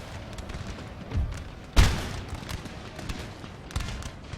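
Scattered gunshots and booms crackle in a distant battle, with one louder blast standing out among sporadic shots; light infantry and cannon fire in the video game Napoleon: Total War with the Darthmod mod.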